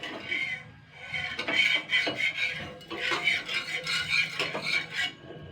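A spatula or ladle scrapes and swirls a little oil around a hot tawa griddle. The rasping strokes are rhythmic and close, repeating over several seconds with no voice.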